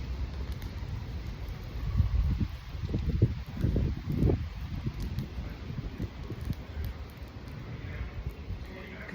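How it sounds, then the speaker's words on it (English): Gusty wind rumbling and buffeting close by, swelling in a few stronger blasts before settling into a steady low whoosh. "Every so often we're getting a breeze blow through here"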